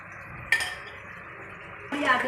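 A spoon stirs cake halwa in a metal pot, giving two clear scraping, clinking passes against the pot with a quieter stretch between them.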